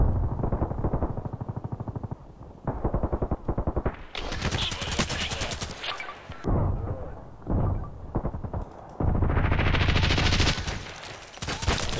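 Bursts of rapid machine-gun fire from the Contract Wars online shooter, loud and close, in several long rattling strings separated by short pauses, with sweeping game sounds between them.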